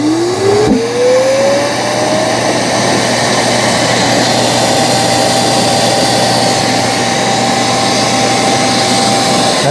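iRobot Roomba Combo 10 Max dock auto-emptying with a loud, steady vacuum roar, a rising whine as it spins up, then sustained suction drone close by.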